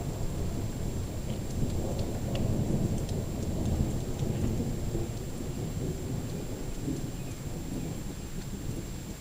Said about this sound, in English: There is a pretty epic storm going on right now.